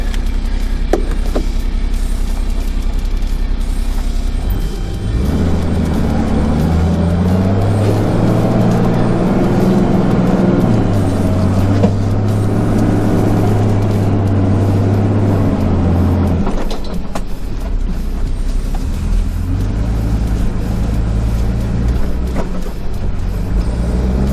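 A 4x4 towing a trailer creeps forward through soft sand, its engine droning low and steady at close range, the note rising and shifting with load before easing off near the end.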